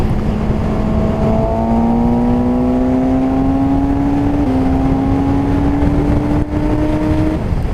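A 2017 Suzuki GSX-S750 motorcycle accelerates in fourth gear from about 100 km/h, its engine note rising steadily in pitch as a loud, continuous drone under heavy wind rush.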